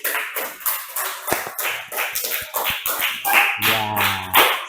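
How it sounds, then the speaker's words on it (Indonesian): Hands clap in a classroom in a quick, uneven patter of sharp taps that runs for a few seconds and ends with a brief, louder burst. "Nah, tepuk tangan."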